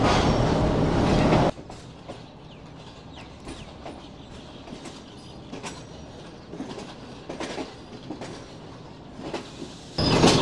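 A Pakistani passenger train from Islamabad toward Karachi rumbles along the rails with a soft, irregular clickety-clack, loud bursts of noise at the start and end.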